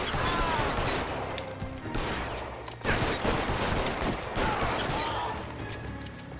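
Bursts of gunfire from an L.A. Noire shootout, several rapid volleys with brief gaps, loud and close, mixed with in-game clatter and a faint voice or two.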